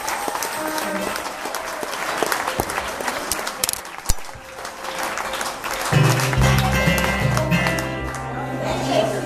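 A live session audience claps steadily for a performing group, a dense patter of many hands that carries on while a voice speaks over it and music begins underneath toward the end.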